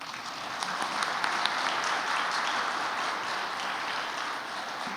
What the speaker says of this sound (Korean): 박수 한번 써주세요